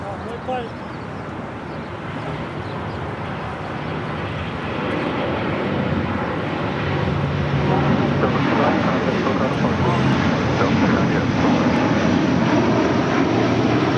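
A Delta airliner begins its takeoff roll on runway 25 right at LAX, a broad steady jet engine roar that swells gradually louder over the whole stretch, heard from a distance with no voices.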